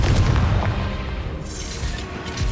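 A Confringo spell blast from the Hogwarts Legacy video game sounds as a loud, deep booming explosion with a rumbling tail that fills the whole short stretch.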